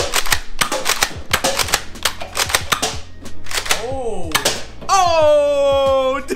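A Nerf blaster fires foam darts in rapid succession, a fast series of sharp mechanical clacks and thumps, close and loud, with a voice talking over the final seconds.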